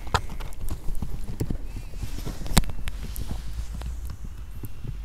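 Hooves of a horse being shown for sale clip-clop irregularly on hard ground, close and fairly loud, with scattered knocks and light background noise.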